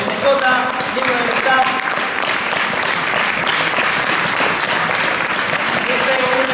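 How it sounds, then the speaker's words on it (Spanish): Sustained applause from an audience at a fencing event in Zafra, dense and steady clapping filling the room at close range with a few voices mixed in. "También un aplauso para José, que está ahí, el fotógrafo oficial del evento"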